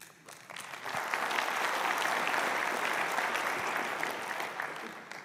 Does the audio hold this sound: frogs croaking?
no